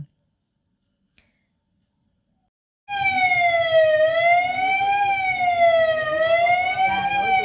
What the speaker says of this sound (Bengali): অ্যাম্বুলেন্সও ততক্ষণে চলে এসেছে